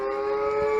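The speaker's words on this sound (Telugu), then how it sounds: "సైరన్ మోగుతోంది" Emergency siren sounding in China during an earthquake, a steady sustained tone held throughout a brief moment, fairly loud and without voices.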